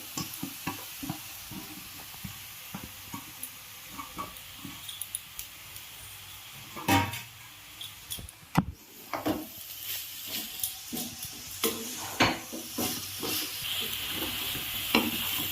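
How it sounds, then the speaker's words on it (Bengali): Grated carrots sizzle softly in a pan for carrot halwa while a spoon stirs and scrapes them in irregular strokes, faint at first and growing busier toward the end. "এবার আমি কুড়ে রাখা গাজরগুলি দিয়ে দেবো। আমি সবটাই দিয়ে দিলাম।"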